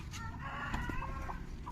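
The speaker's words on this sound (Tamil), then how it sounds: "எங்கள் கோழிக்கு இது ரொம்ப பிடிக்கும் ஃப்ரெண்ட்ஸ்" A backyard chicken clucks softly a few times while pecking at fed greens, faint and close with light background noise.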